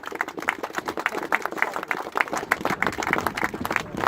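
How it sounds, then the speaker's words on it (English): Crowd at an outdoor rally about the Rochdale grooming scandal applauding: dense, steady hand clapping from many people, moderately loud and continuous throughout, with no speech over it. "So give yourself a round of applause, please."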